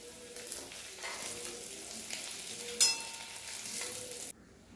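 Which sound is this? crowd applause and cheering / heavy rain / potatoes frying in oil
potatoes frying in oil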